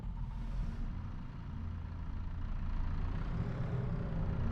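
Skid steer engine idling while warming up in the Farming Simulator video game, a steady low rumbling drone that holds even and continuous throughout, gradually swelling slightly louder, with no talk.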